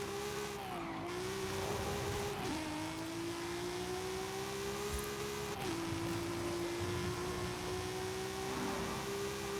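A 2011 Audi RS3 Sportback with an AWD sleeper tune drives in Forza Horizon 5, its engine holding a steady, droning note that drops briefly on two gear shifts, with a faint hint of tire noise underneath.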